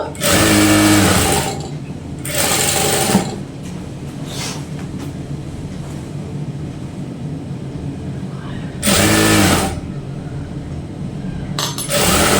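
A sewing machine stitches a blouse in loud, steady runs of a second or so each, separated by quieter pauses with faint handling noise, no talk.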